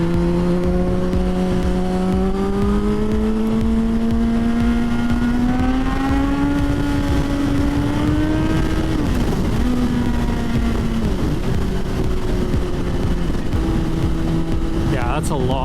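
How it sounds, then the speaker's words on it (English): A motorcycle engine drones steadily from the rider's seat in heavy road traffic, its pitch slowly rising then dipping as the bike moves, with wind rush underneath throughout. "That's a lot of freaking traffic."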